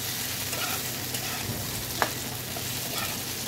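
Potato mixture coated with tomato sauce stirred in a frying pan for aloo chakli, a steady low sizzle with soft scraping strokes and one brief sharp clink of the spatula midway.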